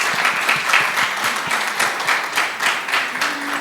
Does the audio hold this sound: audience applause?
yes